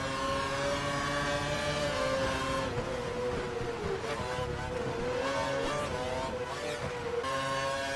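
Formula race car engine in a racing video game at the Indian Grand Prix, a loud sustained high-pitched whine that steps and bends in pitch as it revs through gears, heard alone without talk.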